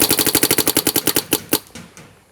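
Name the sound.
HK Army TFX3 paintball marker firing rapidly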